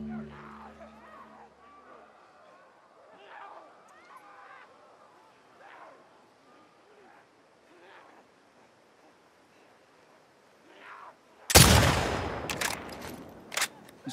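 Rifle shots in The Last of Us Part 2 crack out loud and close near the end after a long stretch of quiet ambience, a sharp blast followed by a couple of further bangs.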